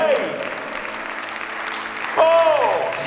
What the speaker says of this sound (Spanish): Vamos a darle un fuerte aplauso al Rey.